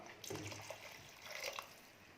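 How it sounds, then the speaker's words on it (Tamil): Hot water is poured from a vessel into a simmering Kerala-style fish curry in a kitchen, making a short soft splashing pour that fades after about two seconds. "குழம்புக்கு தேவையான அளவுக்கு நம்ம தண்ணி ஊற்றிக்கலாம்."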